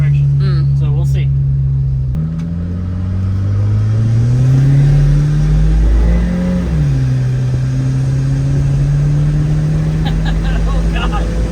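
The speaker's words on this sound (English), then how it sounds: "just doing a rolling burnout" A Volvo 240 Turbo wagon's engine roars loudly during a rolling burnout, pitch climbing and dipping through sustained throttle, with voices briefly audible.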